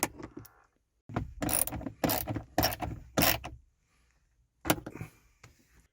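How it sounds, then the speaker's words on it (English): Metal ratchet clicking in short bursts while tightening bolts on a Jeep JK grab bar, several close, fairly loud ratcheting runs separated by pauses. "Snug them up with your ratchet, and you're almost done."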